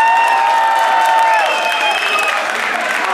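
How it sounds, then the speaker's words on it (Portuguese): Crowd at a metal show in Curitiba, Brazil applauds and cheers loudly and steadily. Sustained whistles and shouts ride over a dense wash of clapping that eases slightly toward the end. "Dá uma salva de palmas"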